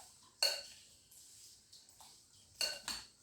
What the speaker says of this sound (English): So I make sure say it well mixed. Mix it together very well.